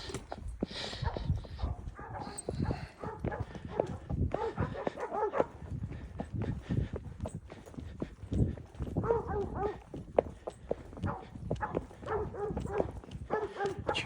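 Working ranch dogs bark repeatedly during a horseback ride, their sharp yaps scattered over a steady clip-clop of hooves, with a voice speaking at times.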